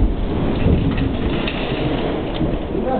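A summer thunderstorm in Montreal gives a steady, dense roar of heavy rain with low rumbling thunder underneath, loud and continuous throughout.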